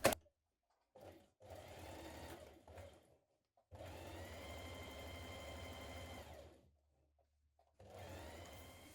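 A sewing machine stitches a 1.5 centimetre seam along the centre back of a vintage-style coat in several bursts, a short run then two longer steady runs separated by pauses.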